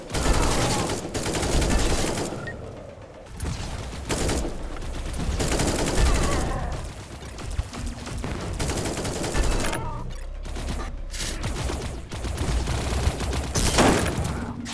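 Sustained gunfire from a weapon in the sci-fi shooter Echo Point Nova, with rapid repeated shots and bursts that run loud and dense through the whole stretch alongside game action.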